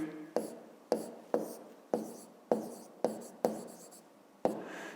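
A pen marks points on paper with about nine short, sharp taps and scratches at an uneven rhythm, close and alone in a quiet room.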